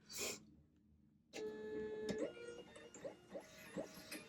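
A label printer feeds and prints a shipping label, a short whir followed by a mechanical hum with rhythmic clicks and ticks, quiet and close with no voices.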